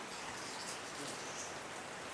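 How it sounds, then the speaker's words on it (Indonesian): Steady rain falls continuously, a dense even hiss of drops with no breaks, heard alone without any voices. "Hujan lagi ya? Hujan."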